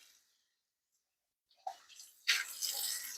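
Tap water runs over slow juicer parts as they are rinsed, starting after a quiet pause with a splash, then a loud, steady gush of flowing water.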